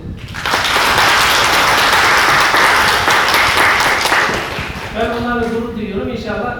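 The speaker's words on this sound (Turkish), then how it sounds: "Bence o evlatlarımızı bir kere alkışlayalım." Applause for children at a Tekirdağ Yeşilay award ceremony, a sustained burst of many hands clapping that fades after several seconds into quieter tonal sound.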